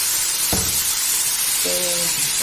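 Boiled bitter gourd pieces fry in hot oil with a steady, close sizzling hiss, marked by a brief knock and a short tonal squeak partway through, with no voices.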